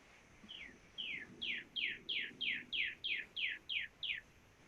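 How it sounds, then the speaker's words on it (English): A pet bird chirps outdoors in a rhythmic series of about eleven bright, evenly spaced tweets, fairly close and clear against quiet background noise. "Is that your bird chirping?"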